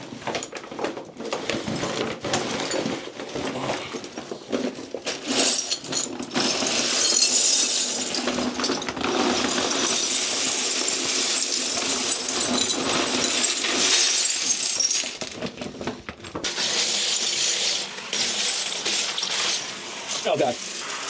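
Glass pieces poured into a bathtub make a steady stream of shattering, clinking crashes, loud and close, lasting throughout with brief pauses.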